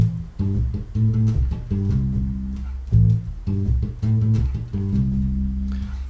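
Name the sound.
bass guitar line, first bar of groove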